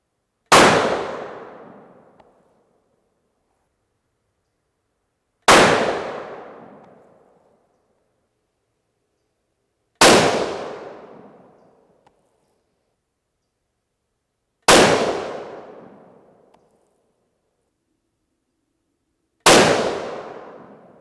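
Five single rifle shots from a Remington 700 firing 90 grain Sierra Game Changer bullets, each a sharp loud crack with a decaying echo, spaced about five seconds apart outdoors.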